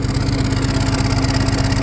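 A 1969 John Deere 4020 diesel tractor idles close by at about 1,000 RPM with a steady, rhythmic chugging rumble, loud and unbroken throughout.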